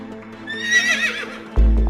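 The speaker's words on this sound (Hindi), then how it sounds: "यहाँ दो पेड़ों के बीच एक घोड़ा जिस तरह से फंसा कि निकलने की कोई उम्मीद नजर नहीं आ रही थी।" A horse stuck between two trees gives a loud whinny that rises and wavers for about a second, followed by a heavy thump or hoof sound at the end.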